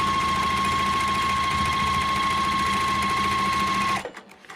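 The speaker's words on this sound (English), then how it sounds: "I'm going to stitch on each side of the line. A 1/4 inch away." Sewing machine stitching a quilt block a quarter inch from a marked line, a steady fast close mechanical whir with rhythmic needle chatter running for about four seconds before abruptly stopping.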